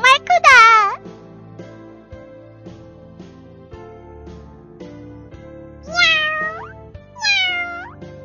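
A cat gives three loud, drawn-out meows, one at the start and two more near the end, close and clear over soft background music.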